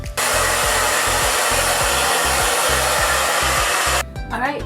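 Hand dryer blowing on a protective shield sprayed over a wig cap, a loud steady whooshing roar with a pulsing motor hum that cuts off near the end.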